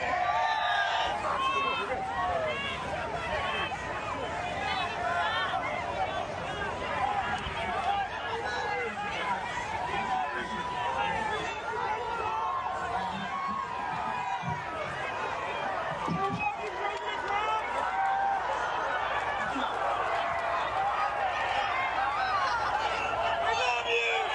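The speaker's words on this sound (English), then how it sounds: "Listen to that crowd roar." A large crowd at a Trump campaign rally roars and chants continuously, a dense sustained mass of voices at steady loudness for the whole stretch.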